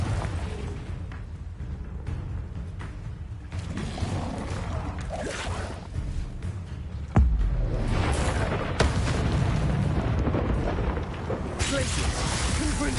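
Fiery Confringo spell blasts in Hogwarts Legacy, a dense run of rumbling bursts and whooshes mixed into busy combat noise, with a heavier boom midway through. Voices are heard under the noise.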